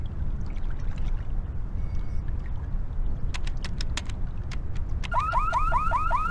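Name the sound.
alarm going off in The Longest Journey video game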